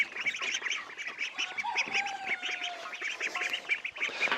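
Farmyard ducks quack at feeding time, a lively close group of repeated nasal quacks in a quick irregular rhythm, with a few honking calls mixed in.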